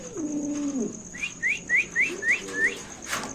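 Pigeons at a pigeon sale: a low call, then a quick run of six short rising chirps close by, over a faint background hum.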